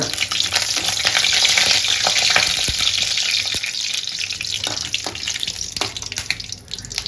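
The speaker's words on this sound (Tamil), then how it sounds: "மிளகாயை நல்லா வறுத்துடலாங்க." Dried red chilies fry in hot oil, giving a loud, continuous sizzle and crackle, broken by a few light knocks of stirring.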